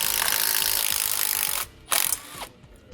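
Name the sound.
15mm socket ratchet removing sway bar bushing bolts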